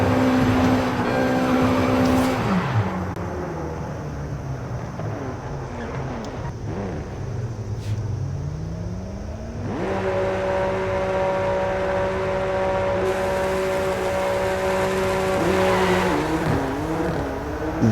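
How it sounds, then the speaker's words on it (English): Engine of a Honda Civic EP3 Type R revving hard, dropping and then climbing sharply into a loud, sustained high-rpm VTEC wail that holds steady before easing off, heard up close from inside the car. "Let them hear the VTEC."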